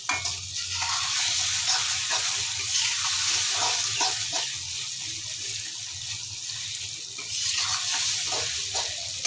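Dahi aloo masala fries in a pan, a steady bright sizzle that runs without a break, with faint stirring and scraping underneath and no talking.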